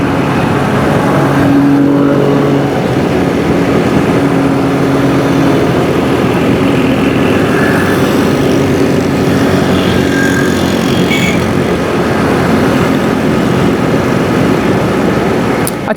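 Cars and motorcycles on a fast-track road rush past in a constant loud roar of engines and tyres, with individual vehicles swelling and fading as they pass near.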